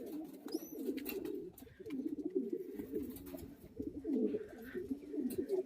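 Racing pigeons coo softly at their loft, a steady low murmur of overlapping calls from several birds under faint background noise, with a brief higher chirp early on.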